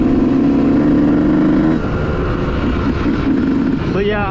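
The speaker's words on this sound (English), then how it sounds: "I already know this thing's running a little rich down in the pilot. You can hear it's a little gargling." A 2018 Yamaha YZ125 two-stroke dirt bike running rich on the pilot jet, its engine idling loudly and close with an uneven gargling burble, then blipped in a short rev near the end.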